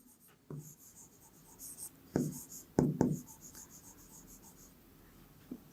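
Pen or pencil writing by hand on paper while working a Class 6 ratio and proportion maths problem, a few soft scratchy strokes with brief louder bursts near the middle, close and quiet, with no talk.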